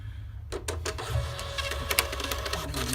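The built-in printer of an EVO 200 tank monitor prints an active alarm report: a few sharp mechanical clicks, then a continuous buzzing whir of the print mechanism, close by.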